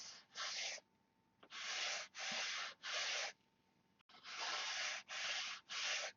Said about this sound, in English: we'll sand the bottom.